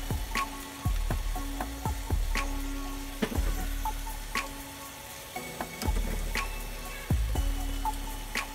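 Ground bison meat sizzles quietly in a hot pan, a steady low crackle broken by sharp ticks and clinks of a utensil against the pan every second or so.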